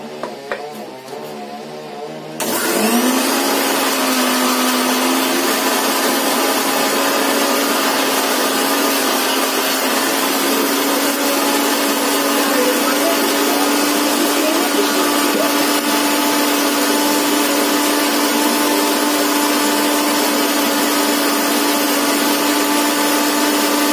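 Kitchen mixer grinder blending green chili into a paste, starting with a sudden jolt and then running loud and steady with a constant whining hum for the rest of the time.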